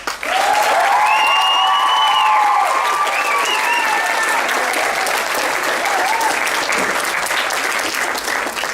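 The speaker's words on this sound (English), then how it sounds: "if we could all give him another round of applause" Audience applause at a girls' football tournament awards ceremony, loud sustained clapping filling the whole stretch, with faint cheers near the start.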